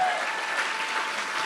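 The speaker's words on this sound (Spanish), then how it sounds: "yo quiero pedirle que le dé un aplauso a Él" A church congregation applauds with a steady, even wash of clapping from many hands, a little distant, held at one level the whole way through.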